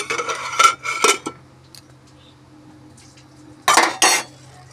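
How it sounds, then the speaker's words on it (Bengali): A metal lid is set onto a pot of rice with a few sharp clanks and rattles in two bursts, separated by a quiet stretch with a low steady hum. "ভাতটাকে এবারে আমি ঢাকনা দিয়ে দিই।"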